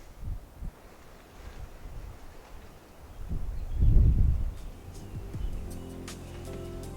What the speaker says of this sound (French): C'est juste un peu chiant parce qu'il y a pas mal de vent.